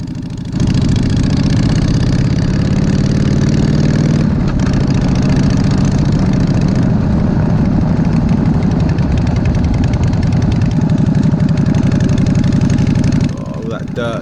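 A custom Harley-Davidson motorcycle engine running loud and close, a deep steady rumble with a slight rise in pitch after the start, holding until it cuts off near the end.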